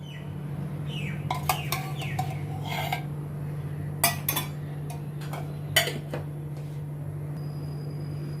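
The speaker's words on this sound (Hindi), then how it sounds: "इसमें मैं अभी ये 2 बड़े चम्मच रिफाइंड ऑयल डालती हूँ।" A pan is set on a lit gas stove and refined oil is spooned in, producing a few sharp metallic clinks and taps over a steady low burner hum, with no talking.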